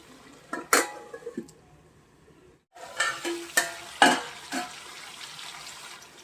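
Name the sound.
crab curry cooking in oil in a pot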